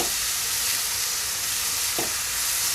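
Chopped onion with curry leaves sautéing in a pan for a pigeon pea curry, a steady close sizzle and frying hiss throughout, with a brief scrape of stirring near the end.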